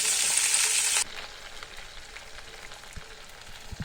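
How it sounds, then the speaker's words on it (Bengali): Pointed gourd (potol) frying in a pan, with a loud burst of sizzling that drops suddenly to a quieter, steady crackle with scattered pops. "পটলগুলোকে লাল লাল করে ভেজে নিতে হবে"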